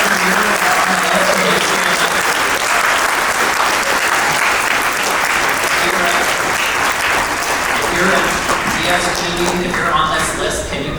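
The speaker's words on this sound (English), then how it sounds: "So can we give a round of applause?" Sustained applause fills a symposium hall, a dense, steady clapping from a large audience that holds nearly level for the full stretch and begins to thin slightly near the end.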